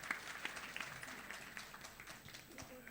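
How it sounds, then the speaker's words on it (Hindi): Scattered clapping from a crowd at an award ceremony in India, fairly soft and uneven, with bits of voices mixed in. "आप लोग ज़ोरदार तालियां बजावें"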